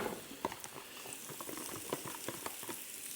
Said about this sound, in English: You can hear that sizzly goodness.